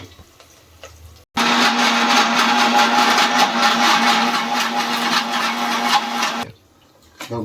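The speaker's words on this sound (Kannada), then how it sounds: "ಇದು ಹುಣಸೆ ಹಣ್ಣು ಹಾಕಿ ಇದನ್ನು ಮಿಕ್ಸಿ ಮಾಡ್ಕೊಂಬರೋಣ ಇವಾಗ" A kitchen mixer grinder grinds jackfruit seeds with tamarind, starting abruptly into a loud, steady whirring roar for about five seconds before cutting off, then briefly restarting; quiet background before it starts.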